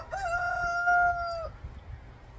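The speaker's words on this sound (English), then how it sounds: "So, you might hear some chickens." A rooster crows once, loud and close, with a long drawn-out call at a chicken coop out in the woods, followed by faint background rustle and no talking.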